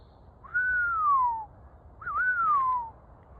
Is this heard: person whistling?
yes